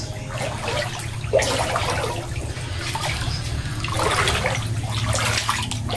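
Fast-flowing floodwater rushes steadily and loudly through the whole stretch, a broad continuous roar with surges of splashing, close by.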